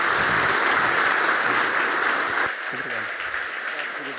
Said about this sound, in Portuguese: é louvando a Deus pela vida do pastor Djalma que nós aplaudimos ao Senhor